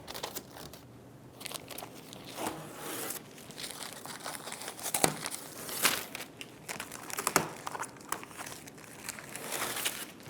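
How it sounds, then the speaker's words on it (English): Tape peeled off the glass of a 2003-2008 Honda Pilot front window, giving close, continuous crinkling and tearing rustles with a few sharper rips scattered through, and no voices. "Go ahead and remove the tape off of your window."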